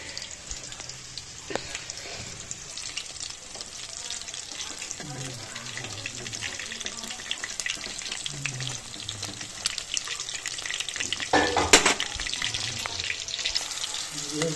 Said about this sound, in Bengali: আমি গ্যাসটা লো ফ্লেমে আমি অনেকক্ষণ ধরে ভেজে নেব, যাতে চিকেনটা সেদ্ধ হয়ে যায় খুব ভালোভাবে